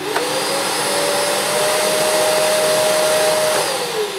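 A Hoover Eco G Telios TTG1100 vacuum cleaner switches on at maximum power, its motor ramping up briefly and then holding a loud, steady roar with a high whine, close by and without talk.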